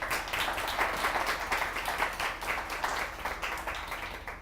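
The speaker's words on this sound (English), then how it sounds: "So let's give Jen a round of applause and thank you for coming." An audience at a startup event applauds a speaker, a steady dense clapping sustained at a fairly even level throughout without talk over it.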